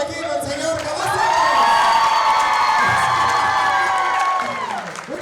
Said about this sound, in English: que se escuche el aplauso aquí al señor Cavazos.